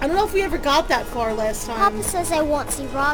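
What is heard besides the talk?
None of the usual background noises is heard.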